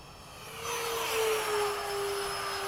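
F-15 jet engine in a flight simulator at night, a steady whining roar that swells slightly after the first half second and holds at moderate level with a thin high tone, no talk.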